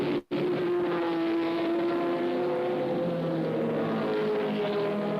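Ford race cars at full throttle down the Mulsanne straight, a sustained droning engine roar that holds steady after a brief cutout at the start, with no voices over it.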